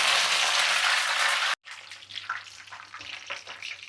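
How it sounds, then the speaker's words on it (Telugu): Cashews and curry leaves frying in oil give a loud, dense crackling sizzle that cuts off abruptly, then softer scattered pops and crackles follow. "చక్కగా మనకి కరివేపాకు బాగా వేగిపోయింది"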